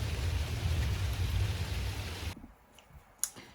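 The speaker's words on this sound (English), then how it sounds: "It's raining and I'm stood out in the rain." Outdoor rain pours steadily in a loud, dense hiss for about two seconds, then cuts to a much quieter scene with a few sharp clicks.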